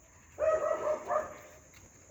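A small, playful pet dog barks in a short burst of yaps and growly whines lasting over a second, close by in a home, with a sharper yelp at the end and no talk over it.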